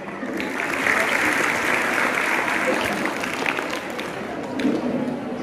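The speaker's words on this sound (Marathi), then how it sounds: "सर्व खेळाडू, सर्व विद्यार्थ्यांनी त्यांच्यासाठी एकदा टाळ्या वाजवत आहे." An audience of students at a sports award ceremony applauds the winning players, dense, loud clapping that fills the space and holds steady for several seconds.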